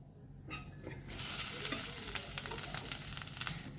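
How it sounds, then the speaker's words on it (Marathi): Cashews roasting in a pan, stirred with a spoon: a soft, steady sizzle with scraping strokes that grows fuller after the first second and keeps going, with no talk. "आनी मातशें ताका आमी रोस्ट करून घेवया."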